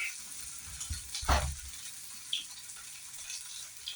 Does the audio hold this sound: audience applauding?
no